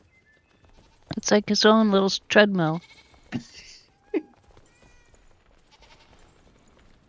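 A goat in the video game Enshrouded bleats in a few drawn-out, wavering calls near the start, close and fairly loud, and a voice speaks briefly afterward.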